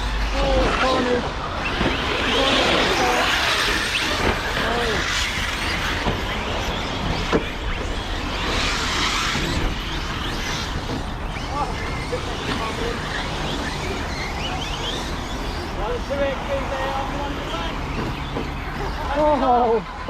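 Arrma Mojave EXB RC car racing against other RC cars, motors whining and buzzing continuously at close range with crunching tyre and impact noise, while people talk and shout over it.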